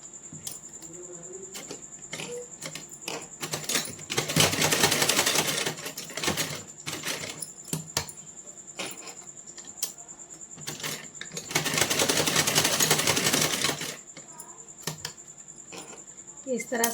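A sewing machine stitches a small doll kurta and shorts in two short bursts of rapid, whirring needle clatter, with quiet handling sounds and someone speaking Hindi in between.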